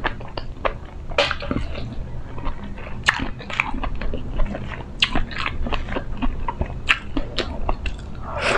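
Crunchy bites and wet chewing of grilled fish with lato seaweed and mango, close up, with sharp irregular crunches and squishy mastication and occasional clinks of dishes.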